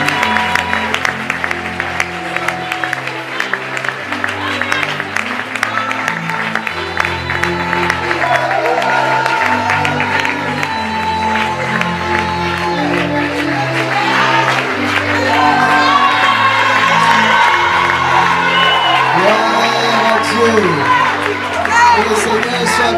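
A church congregation applauds and cheers in a loud, sustained wash of clapping and shouts, with music and a voice carrying through it for the full stretch.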